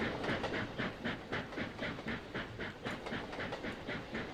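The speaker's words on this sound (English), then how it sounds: "Look at that train still going." Train wheels clickety-clacking over rail joints in the Trainz railway simulator game, a steady, even rhythm of loud repeated clacks with a hiss underneath, no voices.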